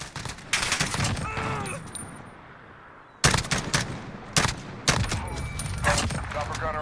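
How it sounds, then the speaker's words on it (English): Rapid semi-automatic shots from an SR-25 rifle in Call of Duty Modern Warfare, sharp loud cracks fired in quick clusters with a short pause between bursts, under someone talking. "You can semi-auto tap fire this thing pretty fast, especially if I were mounted."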